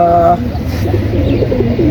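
A pet pigeon coos in a low, throaty murmur close by, with a soft voice briefly audible at the start.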